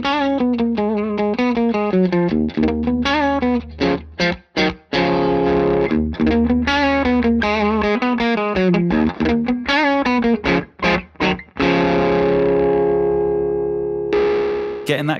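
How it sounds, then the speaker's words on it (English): Electric guitar played through a JHS Notadumble drive pedal, giving warm, distorted classic-rock overdrive: loud rhythmic chords and riffs with abrupt stops and restarts, ending in a sustained ringing chord. "It really gave me some old school warm classic rock type tones"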